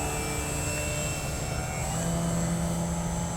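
An AMR 60 aerobatic radio-controlled model biplane by Precision Aerobatics flies nearby, its electric motor giving a steady continuous whine and buzz with no talk over it.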